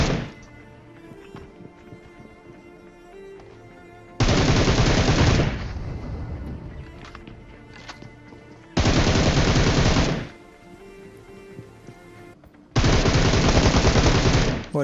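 Loud bursts of automatic gunfire from the mobile shooter game PUBG Mobile Lite come in three rapid volleys, each lasting a second or two, separated by quieter in-game background sound.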